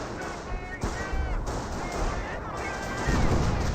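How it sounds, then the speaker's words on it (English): A 25-pounder artillery barrage lands in Company of Heroes 1, with a run of heavy booming impacts and crashing blasts arriving in quick succession, close and loud under excited commentary. "Ooh, 25-pounder barrage getting a good hit there."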